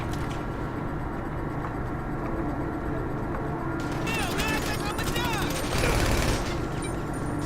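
Scattered gunfire during a Grand Theft Auto 5 Online heist crackles beneath steady game sounds and a talking player, growing busier and louder toward the end.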